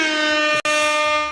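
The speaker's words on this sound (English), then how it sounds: "Hit the air horn." A loud close air horn blasts with a steady harmonic tone, briefly cut by a short gap midway, then sounds again before fading slightly at the end.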